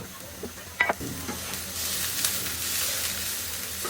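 Onion and garlic fry in a pan with a steady close sizzle, a few sharp spatula taps early on, then a rising, even hiss as the frying continues.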